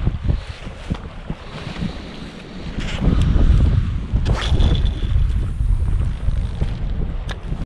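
Strong wind buffeting a microphone on a fishing boat along a break wall on open water, loud gusty rumble that swells midway, with faint water and hull sounds beneath and no talking.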